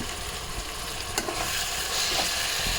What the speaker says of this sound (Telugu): మసాలా నుంచి ఆయిల్ వచ్చినంత వరకు మనం ఫ్రై చేసుకుందాం.